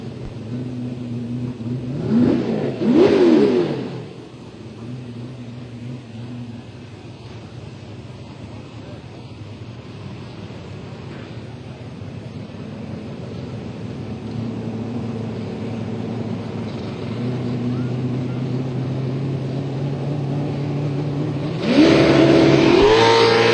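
A 2000 Corvette drag racing at an Atlanta dragstrip, engine rising through the gears with pitch sweeps and shifts, loud at the start and again near the end, with a steadier engine drone between.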